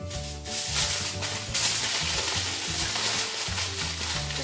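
Tin foil crinkles and rustles as it is folded and wrapped around a banana into a small parcel for baking, a steady close crumpling over a low tonal background.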